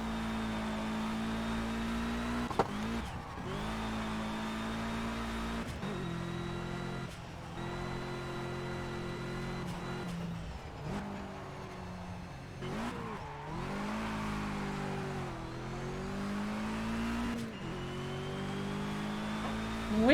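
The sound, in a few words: race car engine in video game Project Cars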